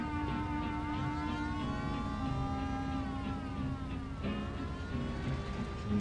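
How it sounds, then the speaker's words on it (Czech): Police car sirens wail continuously in Mafia: The City of Lost Heaven, several overlapping sweeping tones rising and falling over engine rumble, loud and close with no talk. "To k seru ty sirény policijní, nejotravnější zvuk snad z celé hry."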